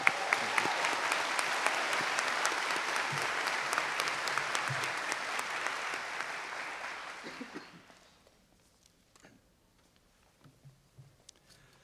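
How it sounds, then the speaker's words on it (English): Sustained audience applause fills a university honors convocation hall for College of Arts and Sciences honorees, dense and even for several seconds before tapering off into near silence with scattered claps. "Please give them all a round of applause."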